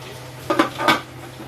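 A metal lid set down on a pot of fish cooking in coconut milk, two quick clanks close by over a low steady stove hum, with no talking.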